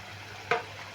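Vegetable-filled rolls frying in oil in a pan give a steady close sizzle, broken by one brief sharp pop, with no talking.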